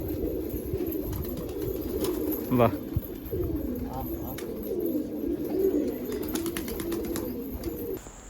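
Pigeons coo softly and repeatedly at a pigeon lot sale, with a brief flutter of wings and other bird calls, while people talk nearby over steady background noise.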